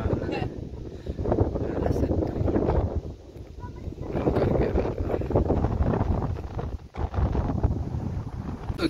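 Strong wind gusting on top of the Kodikuthimala watch tower, buffeting the microphone with rough low roaring bursts that swell and ease, while people talk intermittently.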